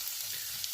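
Butter sizzles steadily in a frying pan with noodles inside a campervan, a dense, even hiss that stays close and fairly quiet throughout.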